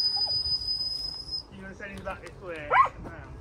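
A dog gives a few short barks and yips close by, with people talking over and around it.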